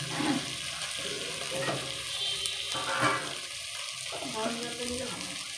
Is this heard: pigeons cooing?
no